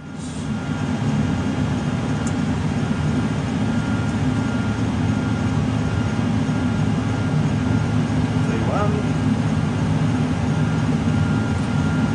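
A steady, loud low rumble of engines and rolling fills a Qantas 747 flight simulator cockpit during a takeoff run down the runway, continuous and unchanging.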